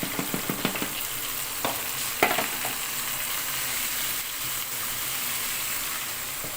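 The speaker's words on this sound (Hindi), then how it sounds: "इसको 1-2 मिनट के लिए फ्राई करेंगे, ताकि जो चिकन है वो अपना कलर जो है वो पिंक से वाइट कर ले" Marinated chicken fries in a karahi with a steady, close sizzle. A quick run of spoon or spatula knocks comes early, then a few scattered stirring clacks, and no one speaks.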